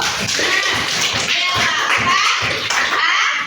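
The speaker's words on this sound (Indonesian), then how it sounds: "Bagus, tepuk tangan dulu." A class of students claps hands in a classroom, a quick run of sharp claps in unison with a steady rhythm lasting a few seconds, loud and close.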